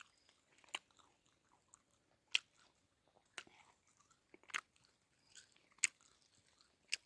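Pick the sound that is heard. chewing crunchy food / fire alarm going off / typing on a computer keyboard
chewing crunchy food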